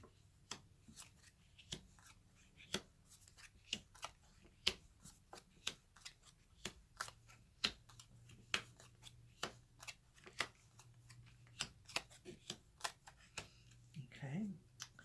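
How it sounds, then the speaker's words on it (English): Playing cards laid out one by one on a table for a fortune-telling reading, giving a steady series of crisp, close slaps and snaps at an even pace, with a quiet low hum underneath. "now I'm going to lay out the cards"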